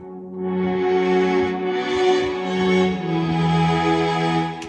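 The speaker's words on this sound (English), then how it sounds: "We've got mellow strings." Soft, mellow string tones from a Nord Stage 3 keyboard swell in and hold warm sustained chords, fairly close and even in level.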